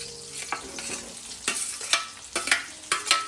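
Potatoes sizzle in a pan with green chillies as a spatula stirs them, giving a soft frying hiss broken by sharp, irregular scraping clicks close by.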